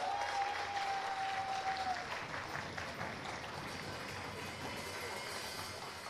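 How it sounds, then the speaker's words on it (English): Applause from the audience at a design competition awards ceremony in the Houses of Parliament, a steady wash of many hands clapping that eases slightly in loudness after the first couple of seconds. "Let us give them all another round of applause."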